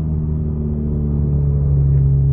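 A 10th gen Honda Civic Si with a very loud aftermarket exhaust holds a steady, deep droning rumble at idle or light revs, close and continuous with no talk.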